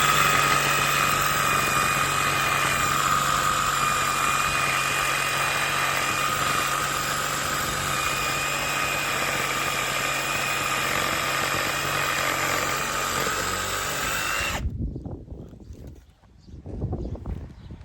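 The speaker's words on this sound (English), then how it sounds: "yeah, reciprocating saw at home" Reciprocating saw cutting through bush limbs outdoors, a loud steady buzzing motor running continuously for about fourteen seconds before stopping abruptly, leaving faint rustling behind.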